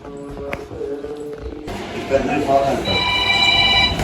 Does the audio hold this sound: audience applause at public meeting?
no